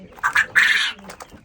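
Quail calling inside a shed, with a few short, bright chirping calls in quick succession, close and fairly clear, with no talking.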